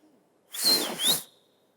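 A woman whistles in a short two-part piercing whistle, loud and clear, rising then falling, heard alone in a quiet studio setting.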